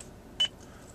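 A 2013-14 Lexus RX voice command system gives a single short electronic beep after the steering wheel talk button is pressed, clear and close over a low cabin hum.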